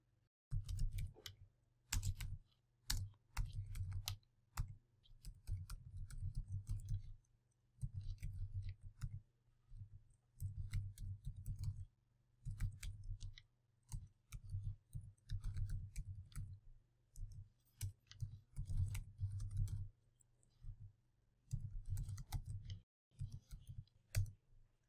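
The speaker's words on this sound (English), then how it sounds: "Let's type our code here." Keys clatter on a computer keyboard as code is typed into the VI editor, steady bursts of close, quick clicking broken by short pauses, with a low hum underneath.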